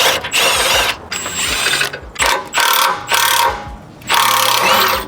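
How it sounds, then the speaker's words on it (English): A ratchet wrench loosens a triple square bolt on an Audi S4 during motor and transmission mount work, giving several close, loud bursts of rapid clicking separated by short pauses. "Let's loosen that triple square"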